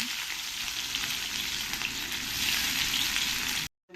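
Chopped onion fries in a pan for egg curry, giving a dense, bright, continuous sizzle close up that cuts off abruptly near the end.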